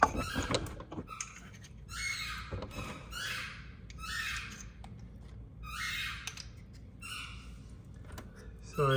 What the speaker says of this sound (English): It sounds like my dog found his squeaky toy.